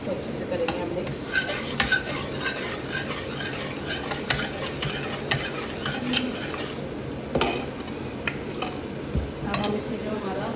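Sambar masala being stirred into a pan mixture, with utensil scrapes and clinks against the pan over a soft sizzle, steady and close, alongside intermittent speech.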